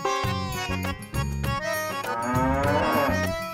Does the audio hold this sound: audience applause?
no